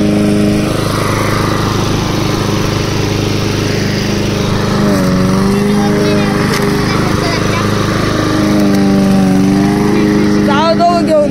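A grass-cutting machine runs steadily while two people push it outdoors in a village: a loud, continuous engine drone with a wavering pitch, and people talking over it.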